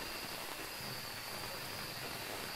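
Steady rain falls at Maple Lodge Campsite in a ghost-hunting video game, a constant hiss of drops with no breaks and no voices.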